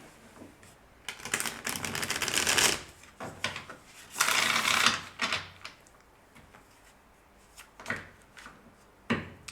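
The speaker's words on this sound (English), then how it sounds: "Okay, I will shuffle again." Tarot cards being shuffled close up: two long riffling bursts, then several short shuffles and taps, no talking.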